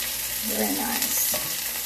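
Chicken pan-frying in hot oil for chicken marsala, crackling and spitting steadily with a continuous close sizzle throughout.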